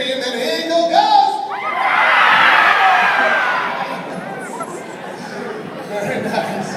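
An audience at a live comedy show shouts and whoops in imitation of a screaming eagle, a loud rising crowd cry that swells, peaks and fades, with chatter and cheering around it.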